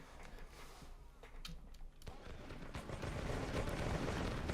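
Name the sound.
cannon fire in Kriegsspiel 7 Years' War video game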